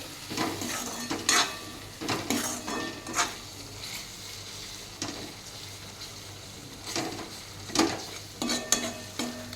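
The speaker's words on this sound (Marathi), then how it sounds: "हे आता मी दोन मिनिट परतून घेणार आहे" Besan mixture with red chilli powder and salt being sautéed in a pan for a horse gram besan dish, a spatula scraping and stirring in repeated strokes over a soft, steady sizzle, fairly close and unaccompanied by talk.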